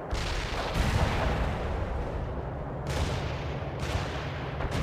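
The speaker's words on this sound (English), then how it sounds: "Requesting artillery strike on coordinates." Artillery shells from a strike in the World in Conflict video game thunder in a continuous, dense barrage of booming blasts, with heavier bursts rising out of the steady roar.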